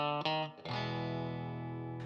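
Electric guitar with effects strumming a three-chord main progression, a couple of quick chord hits then a long sustained ringing chord, moderately quiet and alone.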